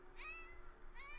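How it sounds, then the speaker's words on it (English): A cat in The Sims 4 gives two short, clear meows about a second apart over a faint steady game background hum. "Cat."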